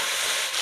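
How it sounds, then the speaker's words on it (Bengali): Cauliflower florets frying in hot oil while being stirred in a village kitchen, giving a steady close sizzle with a brief scrape of the utensil near the end, no talking. "তো ফুলকপিটা ভেজে নিই ভালো করে।"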